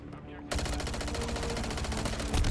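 Rapid, loud, continuous automatic fire from a small SMG in Modern Warfare 3, starting abruptly after a quiet moment and rattling steadily for about two seconds.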